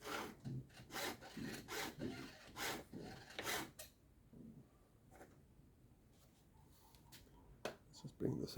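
Steady rhythmic rasping strokes of a file sharpening a chainsaw chain, about a dozen even passes up close, followed by quieter scattered scraping.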